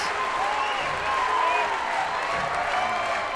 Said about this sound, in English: This crowd is up and making some noise